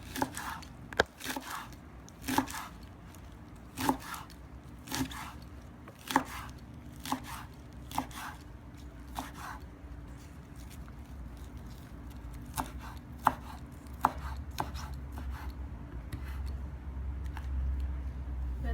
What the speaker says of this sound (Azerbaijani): narın doğramırıq, bir qədər iri doğrayırıq.